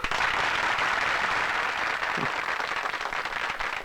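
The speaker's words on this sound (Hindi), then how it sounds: "वाह, तालियां!" Audience applause in an old Hindi film scene, a steady dense wash of many hands clapping, sustained and fairly loud throughout without letup.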